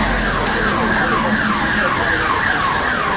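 An ambulance siren wails loudly during a civil defence demonstration in a Mumbai port trust colony, its rising and falling sweeps repeating steadily over busy outdoor noise.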